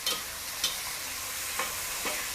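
Squid stir-fries with sauce in a hot pan, giving a loud, constant sizzle broken by a few quick scraping stir strokes at irregular intervals.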